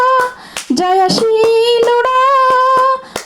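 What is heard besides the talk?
congregation clapping hands along to worship song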